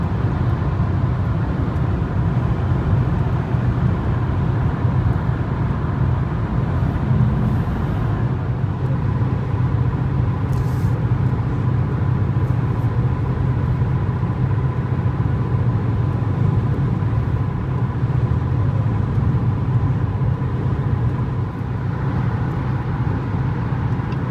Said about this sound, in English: You have a little bit of tire noise in this thing